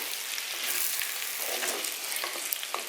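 Chicken for a Kerala-style roast sizzles steadily in a hot pan while being stirred, a dense close crackling with occasional scraping from the stirring, no voices.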